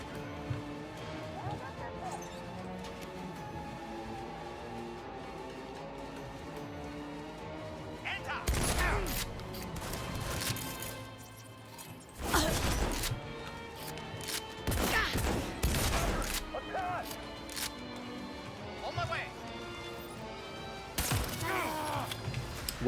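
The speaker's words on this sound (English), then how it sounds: "People are definitely shooting at me, though." Gunfire in Cyberpunk 2077 rings out in several loud, separated bursts of shots and impacts against a quiet ambient game backdrop, with a lull between volleys.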